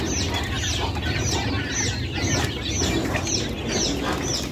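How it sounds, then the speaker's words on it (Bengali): Quail kept in a lit farm shed call steadily, repeated chirping notes rising over a constant dense background of many birds, with no talking. "তো এই হচ্ছে আমার কোয়েল পাখিগুলো"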